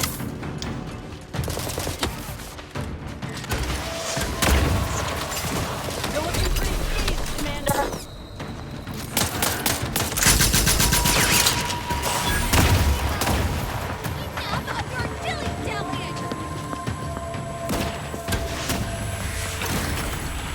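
A weapon fires repeatedly in The Outer Worlds 2, scattered bursts of gunfire amid other game sounds and clatter, with bits of talk over the shooting.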